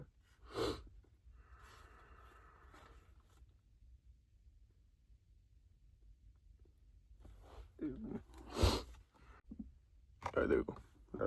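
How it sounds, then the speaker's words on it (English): Several short, breathy sniffs scattered through a mostly quiet stretch, with a cluster of louder nasal snorts near the end. "I might be sniffling a bit,"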